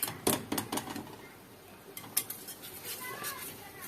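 A utensil clinks and scrapes against a pot while béchamel sauce is stirred, giving a few sharp close taps and light scraping at irregular moments over quiet kitchen background.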